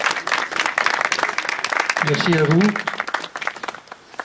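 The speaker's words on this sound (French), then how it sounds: "je pense qu'on peut les applaudir effectivement." Audience at a municipal ceremony in Rouxmesnil-Bouteilles applauds the children with sustained clapping that thins toward the end, someone briefly speaking over it midway.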